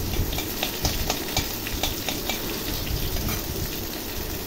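Ginger and green chili paste fries in hot oil with black cumin and chilies for a Bengali rohu fish curry, giving a dense, loud sizzle broken by repeated scraping stirs close by.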